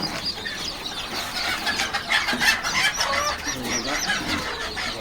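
Several village chickens cluck and squawk close by in a busy, overlapping chorus at a poultry farm, rising and falling throughout.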